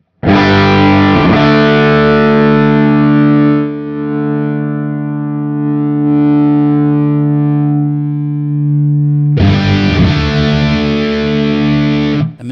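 An electric guitar through a Seymour Duncan Diamondhead distortion pedal rings out a loud, heavily distorted chord that sustains and slowly fades, then a second crunchy chord is struck near the end.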